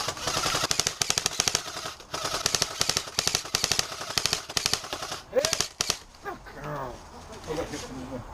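Airsoft skirmish at Lane End: rapid bursts of sharp sniper and rifle gunfire crack loudly and steadily for several seconds, then stop, leaving brief shouts and talk.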